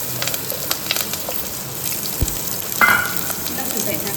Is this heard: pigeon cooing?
no